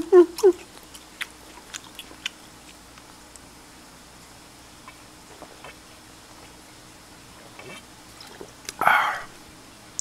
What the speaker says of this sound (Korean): 꼭꼭 씹어서 잘 먹어야죠.